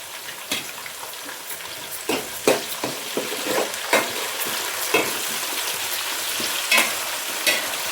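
Oil sizzles steadily in a frying pan as mint and tomato pieces for a gongura chicken curry are stirred, with sharp scraping spatula strokes and clacks scattered over the constant frying hiss, up close and without talk.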